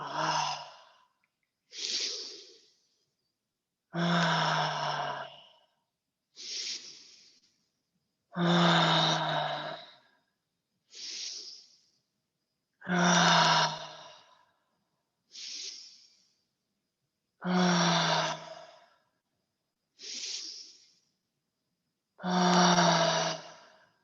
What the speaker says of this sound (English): Keep filling up all the way with the inhale, letting it fall out effortlessly on the exhale.